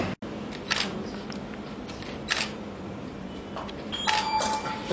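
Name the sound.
camera taking a photo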